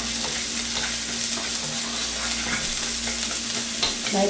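Chopped garlic sizzles steadily in a pan as it is stirred, with scattered spatula clicks over a constant frying hiss and a low hum underneath, no voices.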